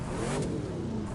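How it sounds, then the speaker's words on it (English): A car engine starts up and revs in the racing game The Crew 2, a brief rising snarl with a quick throttle blip, close and loud, then settling into a rumbling idle. "I just love the startups of these cars"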